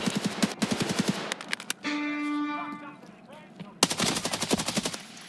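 Loud rapid-fire bursts of automatic gunfire from the video game Escape from Tarkov crackle in close, repeated volleys, broken by a short pause with a tonal game sound before the shooting resumes.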